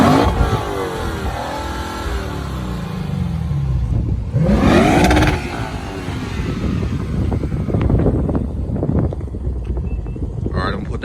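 Lexus RC F fitted with a Borla cat-back exhaust revs loudly up and down close by in several rising and falling blips, with wind noise at times.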